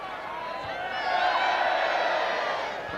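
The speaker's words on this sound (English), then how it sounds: "And just listen to the crowd." A football crowd cheers at Old Trafford: a broad, distant roar that swells in the middle and then eases off slightly.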